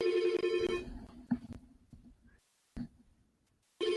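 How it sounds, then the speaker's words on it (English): A telephone bell rings in the background during an online lesson-tool presentation, with a few bright ringing bursts at the start and again at the end, separated by quieter moments. "I forgot to unplug my phone today, so I apologize that is ringing in my background"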